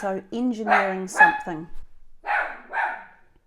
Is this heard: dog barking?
yes